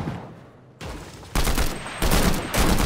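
Gunfire in the Fortnite video game, loud rapid bursts of shots in several back-to-back blocks, growing denser and louder across a few seconds.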